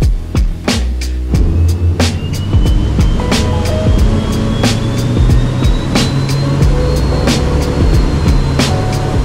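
A quiet electric boat moves under way with no engine noise, only steady wind buffeting and water slapping against the hull, with repeated sharp thumps and knocks close by.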